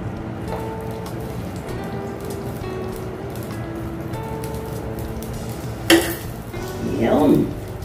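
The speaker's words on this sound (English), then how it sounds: "let's put the butter." Butter melting in a pan for a leftover chicken barbecue dish gives a soft, steady sizzle and crackle throughout, with a brief clatter near the end and a louder burst of frying as it heats.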